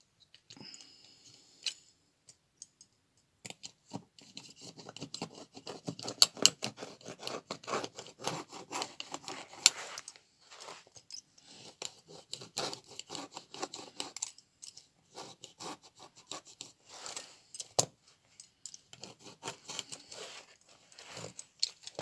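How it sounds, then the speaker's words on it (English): Scissors work at the zipper on a boot, giving a long run of close, dry snips and scraping clicks, with uneven rhythm and short pauses between cuts, no voices. "Next I want to cut the zipper off"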